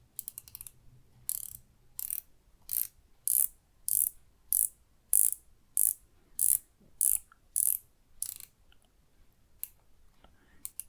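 The rotating bezel of an Aries Gold Dreadnought watch clicks in a steady ratcheting series, about a dozen crisp, evenly spaced clicks heard close and alone in a quiet room.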